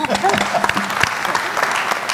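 Audience applause at a tax summit in a conference hall, a steady burst of clapping with voices mixed in underneath.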